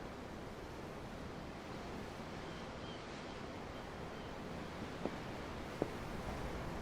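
Steady, quiet ocean surf in the video game Tales of Arise, a continuous broadband wash of waves with no voices, broken only by two faint brief clicks near the end.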